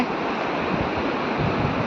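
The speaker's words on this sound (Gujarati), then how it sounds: "જો દોણેશ્વર નદી વેતી છે" River water at Droneshwar runs in a steady, broad rushing wash that stays even and close throughout, with no voices over it.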